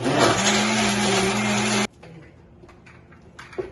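A blender whirs loudly as it crushes ice into a pawpaw smoothie, a steady dense roar close up that cuts off abruptly, leaving quiet kitchen handling noises and a few faint knocks.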